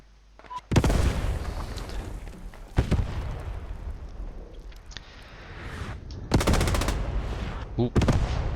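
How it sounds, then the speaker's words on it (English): Artillery fire in the online shooter Post Scriptum: loud booming impacts with crackling gunfire, heavy blasts landing near 1, 3 and 6.5 seconds over continuous battlefield rumble. "looks like 501E artillery's coming in"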